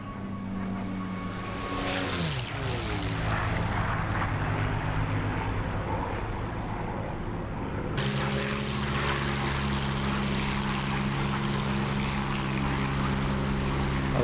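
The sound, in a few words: aircraft engine flyby in a flight simulator video game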